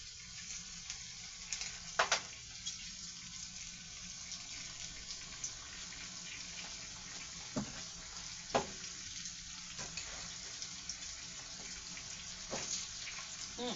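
Onions frying in a pan with chicken and rice, a faint steady sizzle with occasional small pops and crackles, heard alone without talk.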